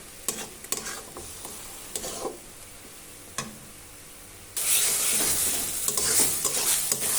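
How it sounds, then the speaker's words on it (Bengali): Food frying in a pan with close stirring scrapes, fairly quiet at first, then a sudden louder, continuous sizzle for the last few seconds. "একটু ভাজা ভাজা না হলে এটা কাঁচা স্মেল করবে, তাই আমি এটা ভালো করে একটু ভেজে নিচ্ছি"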